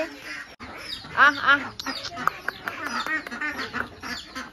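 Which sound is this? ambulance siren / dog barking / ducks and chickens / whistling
ducks and chickens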